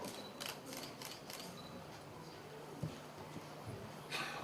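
A camera shutter fires in quick bursts of clicks at a live cooking demonstration, faint against room noise, with several brief click clusters spread across the moment.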